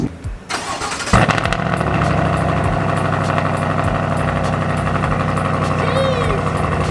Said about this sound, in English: You can't get a better exhaust, and it doesn't drone.